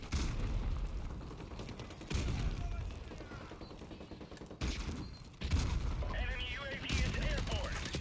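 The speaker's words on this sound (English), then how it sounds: "He just popped out from under those barrels and started shooting at me." Rapid gunfire bursts and explosive booms in Call of Duty Modern Warfare Remastered multiplayer, loud repeated volleys with sharp cuts between them, a voice talking over parts of the action.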